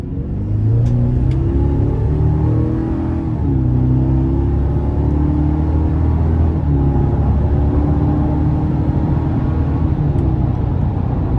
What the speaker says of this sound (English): So as you can see, a pretty quick truck.